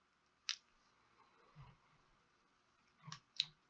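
Two quiet computer mouse clicks on a web map, each a short sharp tick, separated by a pause of about two and a half seconds, with faint soft handling noises in between, no talk.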